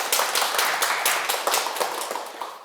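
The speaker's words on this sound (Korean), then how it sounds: "여러분 큰 박수 부탁드립니다." A lecture audience claps together in dense, steady applause that fills the room for a few seconds and fades slightly toward the end, at a Buddha's Birthday Buddhist talk.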